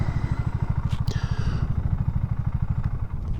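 A BSA Goldstar motorcycle engine ridden off-road, a steady loud thumping single-cylinder beat with a fast even rhythm, up close, with a little rattle over it.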